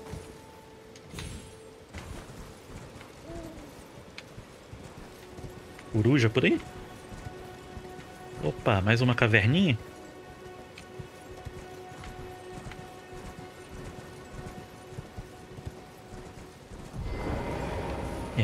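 A horse's hooves clip-clop in Elden Ring as the rider moves, in two short rhythmic bursts of galloping steps and another near the end, set against quiet ambience while a player talks.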